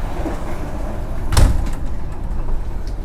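Door between executive-class carriages on a passenger train sliding shut, a single brief thud against steady rolling train noise and rumble.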